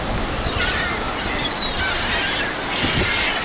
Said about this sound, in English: Wow, how many seagulls we have.